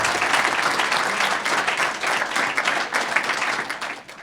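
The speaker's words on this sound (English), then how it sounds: "Let's give our honorees one more round of applause." Loud, sustained audience applause at a hall of fame induction ceremony, a thick wash of many hands clapping that holds strong throughout and eases slightly near the end.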